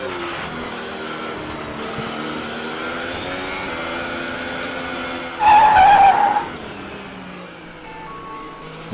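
A race car in a racing video game set at Albert Park drones steadily at speed, its engine note shifting, with a loud, brief tire squeal partway through before the engine carries on alone.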